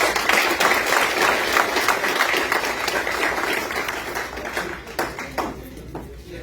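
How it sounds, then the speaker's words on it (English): An event crowd claps for human rights activist Omar Bah at his campaign kickoff for Rhode Island's 2nd District, a dense, steady patter of many hands that thins out toward the end. "I will say clap one more time for Omar and everybody for their time."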